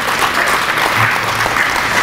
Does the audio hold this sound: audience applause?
yes